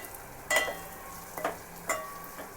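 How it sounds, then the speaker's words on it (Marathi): A 10-rupee packet of Everest pav bhaji masala is stirred into vegetables in a pan for pav bhaji, with three short scraping strokes over a quiet background. "एव्हरेस्ट पावभाजी मसाला घेतला आहे 10 वाली पुडी, ती याच्यामध्ये पूर्ण टाकून घ्यायची आहे। ते मिक्स करून घ्यायचा आहे मसाला।"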